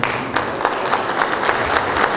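An audience applauds at an award presentation ceremony, dense continuous clapping from a large crowd, loud and close, with no break across the moment.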